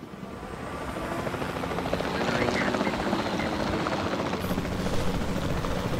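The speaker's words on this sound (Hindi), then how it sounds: "चलो यार हेलीकॉप्टर चलाते हैं" Helicopter in a dinosaur video game, a steady thumping rotor drone that swells from moderate to loud and holds, with faint talk in the background.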